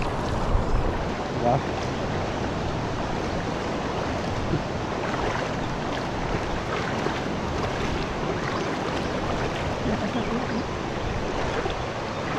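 A boat crosses a river near a dam in Bulacan, Philippines, with a continuous rushing of water and wind-buffeted engine noise, and people talking briefly over it.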